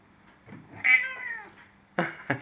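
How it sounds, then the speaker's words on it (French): A cat gives one clear, drawn-out meow close by, followed by a couple of brief sharper sounds, with no talking over it. "Il est gentil, chat."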